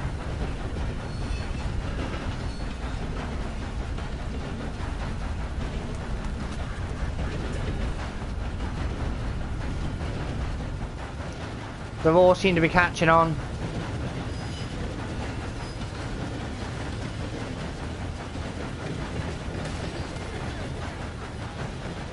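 Rumbling train in Red Dead Redemption 2 rolls along continuously with a steady low clatter, loud and close throughout, while a person talks briefly over it midway.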